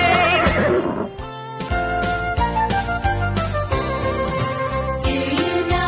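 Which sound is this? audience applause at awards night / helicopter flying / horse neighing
horse neighing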